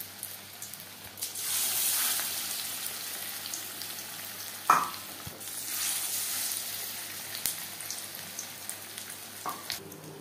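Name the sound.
battered fish frying in hot refined oil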